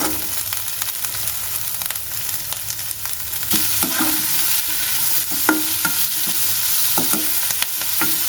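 Chopped onion sizzles in a pan with potato and eggplant, a dense steady frying hiss with frequent stirring scrapes and crackles that grow louder midway through.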